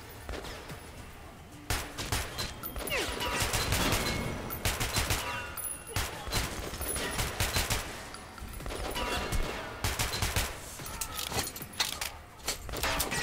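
Metro: Last Light gunfire crackles in dense, repeated bursts of rapid shots, loud and close, with brief pauses between volleys.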